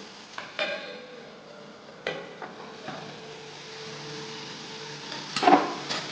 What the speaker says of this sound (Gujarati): તો હવે આપણું જે બટેટું છે બફાઈ જાય ત્યાં સુધી તેને આપણે સાતળવા દેવાનું છે.